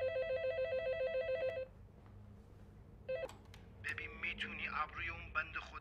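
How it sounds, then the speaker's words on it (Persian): A telephone rings with a warbling electronic trill that stops partway through, followed by another short ring and then talking. "تلفن."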